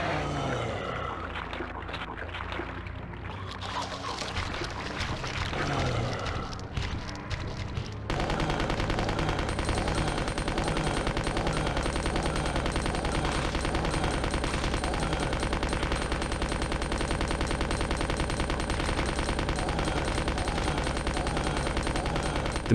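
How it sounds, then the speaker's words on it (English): Sustained machine gun fire in a video game, dense rapid bursts that run almost continuously and loud, with heavier mixed combat noise early on and a steady wall of automatic shots after. "The machine gun absolutely shreds it"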